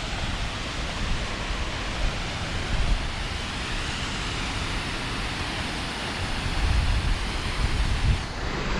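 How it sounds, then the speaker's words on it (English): A roaring waterfall near a houseboat on Lake Cumberland, Kentucky, heard as a constant broad rushing noise with low rumbling swells, steady and fairly close throughout. "There's quite a waterfall just roaring right over here."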